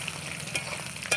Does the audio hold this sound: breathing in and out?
no